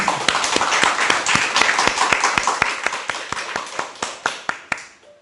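A church congregation claps in unison, sharp rhythmic hand claps repeating steadily and evenly spaced, loud and close, thinning to a few slower claps at the end.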